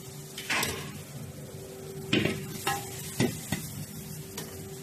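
Pearl barley is stir-fried with dried chilies in a wok, a quiet sizzle under a handful of separate spatula scrapes and clanks against the metal.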